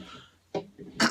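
Two short, sharp coughs a moment apart, close to the microphone, in a quiet room.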